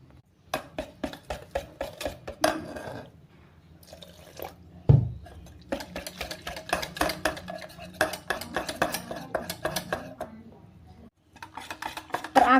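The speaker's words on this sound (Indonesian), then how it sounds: "Lalu kita masukkan sedikit demi sedikit airnya sambil kita aduk sampai" A utensil stirs a batter of flour, salt and water for lumpia wrappers in a bowl, giving repeated clinks and scrapes with brief pauses, close and fairly loud.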